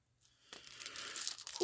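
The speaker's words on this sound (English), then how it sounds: "I'll just unwrap the Mewtwo as well, I guess." Plastic wrap crinkles and tears as it comes off a Mewtwo Pokémon card, a close, steadily louder rustling after a brief quiet start, with no voices.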